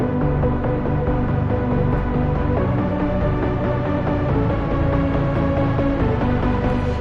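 Melodic dubstep saw synths in Ableton, one panned right and one left, with a filter slowly opening; a dense, sustained, loud harmonic wash with steady level throughout and no voices.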